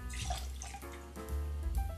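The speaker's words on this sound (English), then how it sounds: "we're gonna grab that Bacardi Ocho and pour in a goodly 2 ounces." About two ounces of aged Bacardi Ocho rum poured into a cocktail mixing vessel that already holds fresh lime juice: a steady, close liquid splash and trickle with no talking.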